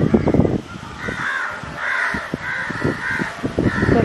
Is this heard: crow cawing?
yes